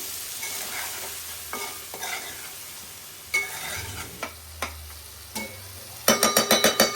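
A spoon scrapes and clinks through raw prawns and egg curry frying in a pan as coriander powder is mixed in. Soft sizzling runs underneath, broken by sharp metallic knocks, and a quick run of rapid taps comes at the end.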